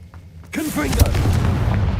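A Confringo blasting spell bursts in the Hogwarts Legacy video game, a sudden loud boom after a quiet lead-in, followed by a rumbling blast tail with a voice briefly over it.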